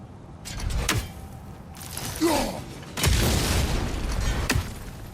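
A bomb bursts with deep booms and rumbling in God of War Ragnarök, set against sharp impacts and mechanical clanks, with a short spoken voice partway through.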